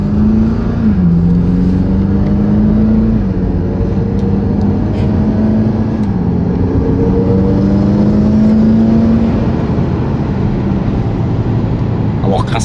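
A BMW car engine drones loudly and climbs in pitch through several gear shifts as it accelerates, with talking over it.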